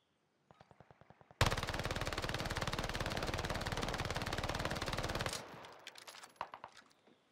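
PPSh-41 submachine gun in Warzone Caldera, a few single shots followed by a loud, rapid unbroken burst lasting about four seconds, then scattered trailing shots and impacts.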